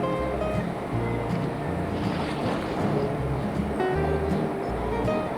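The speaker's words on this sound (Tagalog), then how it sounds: "Ayan, ang ilog Pasig." Water of the Pasig River in Manila, recorded from beneath a bridge: a steady, broad wash with a low engine-like hum running throughout, fairly close and continuous.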